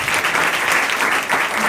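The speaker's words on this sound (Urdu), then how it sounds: "سب سے پہلے ہم کلام خدا کے لیے ذرا زوردار تالیاں بجائیں" Congregation clapping loudly in a church service, a dense steady wash of applause with no gaps, close and full throughout.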